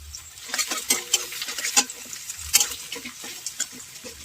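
Carrots and beans frying in a pan for fried rice, a crackling patter broken by irregular scrapes and clicks of stirring, close and moderately loud.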